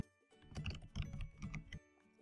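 Keys clatter on a computer keyboard while values are entered into a database-to-HL7 mapping tool, a quick close burst of clicks over about a second with soft pauses before and after.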